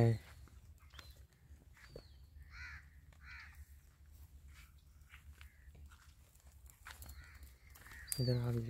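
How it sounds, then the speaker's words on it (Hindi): Harsh caws come in short bursts from a crow at mid-distance, amid low rumble and scattered clicks, with brief nearby noises at the start and end. "देखो कौवा"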